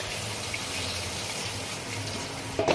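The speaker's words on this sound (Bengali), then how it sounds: "এরপরে আমি একটু জল অ্যাড করব" Water pours into a simmering soya chunk Mughlai curry gravy enriched with milk cream, a steady close gushing splash lasting a few seconds before a short clatter at the end.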